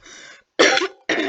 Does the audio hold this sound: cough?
yes